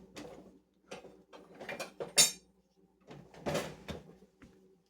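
A spatula pulled from a kitchen drawer: several close clattering knocks and rattles of utensils and the drawer, in irregular bursts with short pauses between.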